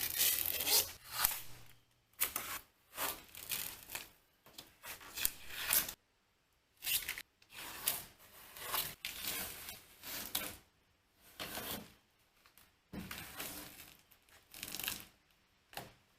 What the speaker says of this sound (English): Let me get all this tape off of here